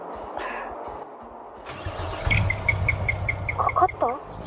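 A Suzuki Wagon R fitted with a modified split exhaust muffler cranks with a repeated whirring starter, then the engine catches and settles into a low rumble, while a bird chirps faintly in the background.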